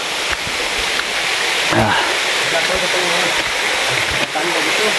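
Loud, continuous rushing of Dalog Falls in a forest in Infanta, Quezon fills the scene, a steady broadband roar, with a voice briefly heard beneath it.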